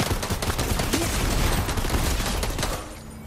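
Rapid bursts of gunfire from the video game Fortnite crackle densely and loudly for most of the clip, then drop away abruptly near the end.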